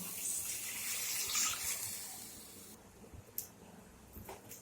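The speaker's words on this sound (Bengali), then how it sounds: "মশলা রাখার বাটি দিয়ে ধুয়ে জল দিয়ে দেব।" Water from a rinsed spice bowl pours into a pan of cooked-down spice masala for a pointed gourd dolma curry, a soft gushing splash for nearly three seconds before fading to a few light clinks.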